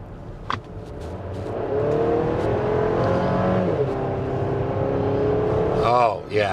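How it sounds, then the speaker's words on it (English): A 2025 Buick Enclave Avenir accelerating from a rolling start, heard from inside as a steady engine drone that builds and holds, muted and refined, with a brief voice near the end. "we'll give it a bit of a rolling start acceleration test here in a minute"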